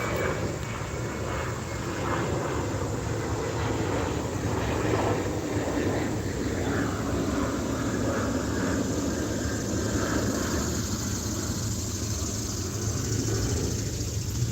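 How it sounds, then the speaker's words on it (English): An airplane passes overhead above a home vegetable garden, a broad steady engine drone that lingers at moderate loudness for the whole stretch without talking. "hold on for the plane."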